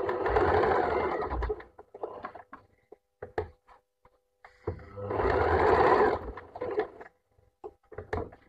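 A sewing machine stitches a corner seam in two loud bursts of rapid whirring, each followed by a pause filled with clicks and knocks as the fabric is turned and the needle is set.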